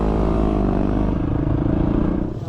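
Yamaha WR250R dirt bike cruising across the Simpson Desert at about 50 to 60 km/h, its engine a steady, close, droning hum with a slight rattle and no break.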